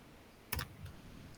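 A single firm press of the Enter key on a computer keyboard gives one close, crisp clack, then a faint softer tap follows in a quiet room.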